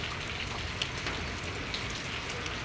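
Heavy rain falling steadily outdoors, a dense even patter of drops hitting surfaces with no pauses, fairly soft and continuous throughout.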